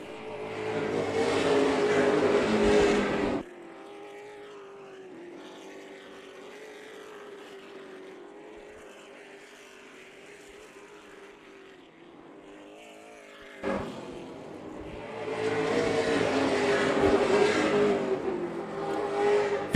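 Super Late Model race cars in the Easy-Kleen Super Late Model Series ReCar 150 roar loudly past close by, fade to a distant engine drone circling the track, then sweep past loudly again.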